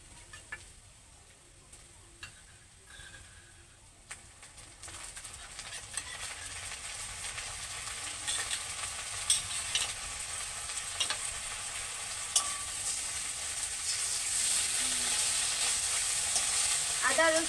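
Ginger garlic paste sizzles with fried onions for a jackfruit and prawn curry, starting quieter then swelling into a louder steady hiss, with occasional ladle clicks as it is stirred.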